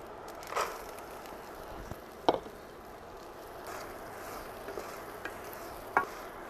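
Urad dal sizzling in hot oil while being stirred for sprouted-bean sundal, a low steady crackle with a few sharper stirring clinks and pops.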